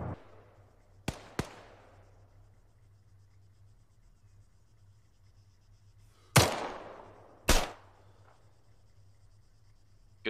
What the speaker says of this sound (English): Good shot, Scott.